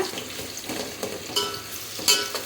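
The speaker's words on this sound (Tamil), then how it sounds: "இப்போ இதை நல்லா ஃப்ரை பண்ணிக்கோங்க" Onions and green chilies sizzle and crackle softly frying in a pan, with a few brief scraping stirs.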